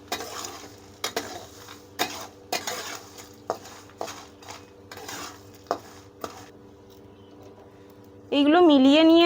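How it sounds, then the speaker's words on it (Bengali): Bay leaves and cashews are stirred in a hot pan, producing a run of sharp spoon scrapes and clinks against the metal at irregular intervals, ending in a sudden sustained tonal whine. "সঙ্গে আমরা দিয়ে দিচ্ছি তেজপাতা এবং কাজু এবার এগুলো আমরা হালকা নাড়িয়ে গরম করে নেবো"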